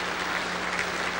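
Warm, steady applause from a concert audience for a choir, an even wash of many hands clapping throughout.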